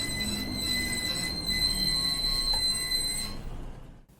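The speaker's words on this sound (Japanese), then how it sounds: "あ、電車が来ました。" Commuter train pulling into a Japanese station, wheels squealing steadily with high metallic tones over a rumbling roll for several seconds before fading out.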